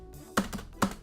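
Keys on a computer keyboard clatter in two short, sharp bursts about half a second apart, close and fairly loud, with faint clicks between them and no voices.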